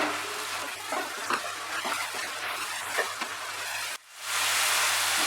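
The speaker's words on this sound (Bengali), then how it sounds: "টমেটো পেস্টটা দেওয়ার পরে আমি আবার 2 মিনিট এটাকে কষিয়ে নেব" Tomato paste frying and being stirred in a pan for Bengali katla fish kalia, a steady close sizzle with scraping stirs that cuts off briefly and then returns as a brighter, louder hiss.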